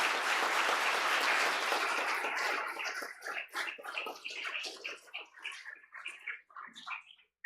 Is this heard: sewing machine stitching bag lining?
no